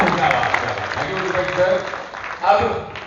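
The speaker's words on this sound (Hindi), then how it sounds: "बस जोरदार तालियां हो जाए" Applause from a crowd at a company victory celebration in India, steady clapping sustained through the clip and swelling again near the end, with some voices mixed in.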